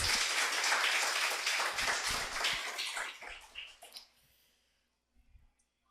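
A church congregation applauding during an afternoon service, a dense burst of clapping that holds for about three seconds, then thins out and fades, leaving a few faint scattered claps.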